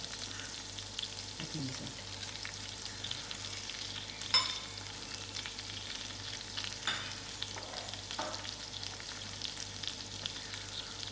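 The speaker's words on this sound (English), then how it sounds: "While the butter is melting," Butter melting in a pan for a prawn and chicken curry gives a faint, steady sizzle with soft stirring scrapes and occasional louder clinks, with a brief spoken remark.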